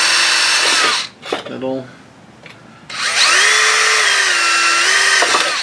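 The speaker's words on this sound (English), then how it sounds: "so now I've got holes drilled in it" Power drill boring holes into a wooden squirrel house, with a short burst early on and then a long steady whine running for several seconds, loud and close, with a brief spoken word in between.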